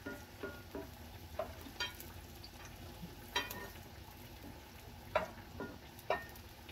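Marinated milkfish (bangus) for bistek cooking in a pan, giving a faint, steady sizzle broken by several soft clanks and scrapes of a utensil stirring, with no talking.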